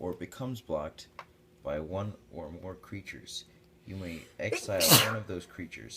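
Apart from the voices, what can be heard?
sneeze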